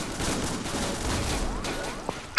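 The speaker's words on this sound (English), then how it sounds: "Fire the cannon!" Cannon fire booms during a ship battle in a video game, a dense, noisy rumble of shots with scattered sharper cracks, steady and fairly loud throughout.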